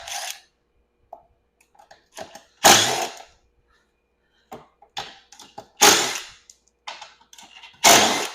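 Riveted rear body panels being pried off an old EZGO golf cart, with several sharp loud cracks and pops of panels snapping free, separated by quieter clicks and rattles of plastic, close by and with no talking.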